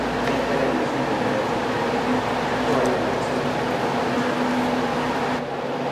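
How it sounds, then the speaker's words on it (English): Water rushes through pipes deep inside a dam tunnel far below the reservoir level, a loud, steady roar with a low hum, continuous and unbroken throughout. "That the sound you are hearing from here is the water flowing through the pipes."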